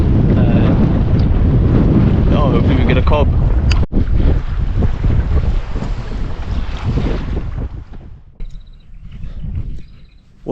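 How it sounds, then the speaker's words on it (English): Strong wind buffets the microphone throughout while boat fishing on the Breede River near Infanta, a steady roar with gusts, under someone talking and fading toward the end. "It's a bit windy, so we didn't want to go too far from home."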